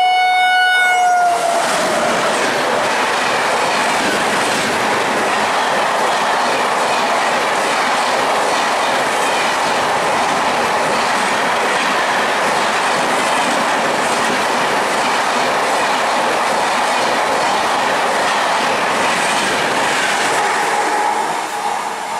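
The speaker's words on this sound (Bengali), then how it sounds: "কলকাতা উদয়পুর সিটি অনন্য এক্সপ্রেস শিয়ালদা ওয়াক7 লোকোমোটিভের সঙ্গে" Kolkata–Udaipur City Ananya Express hauled by a WAP7 electric locomotive, loud and close, opening with a brief horn blast and then a continuous rushing roar of wheels and wagons passing for over twenty seconds.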